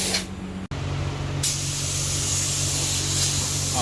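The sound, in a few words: spraying primer paint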